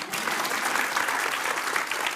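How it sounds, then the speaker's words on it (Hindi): An audience at a public discussion on pollution claps in steady, dense applause that stays even for a short stretch. "हाँ ताली बजा सकते हैं."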